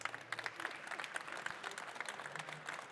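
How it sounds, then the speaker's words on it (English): An audience at a conference session claps in a brief, fairly faint burst of applause, steady patter for a few seconds with no speech over it. "Can you give her a round of applause?"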